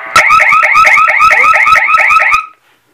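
Lynx Touch burglar alarm's tamper siren blaring loudly and close, a rapid pulsing electronic warble repeating steadily for about two and a half seconds before cutting off abruptly into silence.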